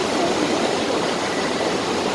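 A train rumbles past beneath a suspension bridge at Hell's Gate, British Columbia, with a loud, dense, continuous roar, close by and unbroken throughout.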